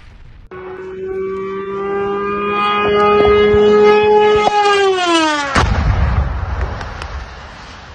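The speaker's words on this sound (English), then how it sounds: "The explosion was captured on cell phone cameras." A drone attack on an ammunition depot near Vasylkiv in the Kyiv region: a rising, whining drone engine builds over several seconds, then a sharp, loud explosion cuts in, followed by a low rumbling aftermath.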